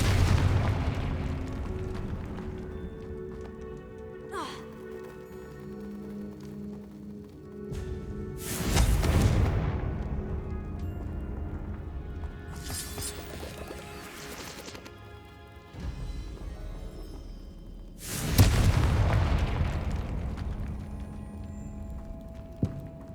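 Confringo fire-spell explosions in the Hogwarts Legacy video game, three loud booming blasts several seconds apart, each with a long rumbling decay over quieter game ambience.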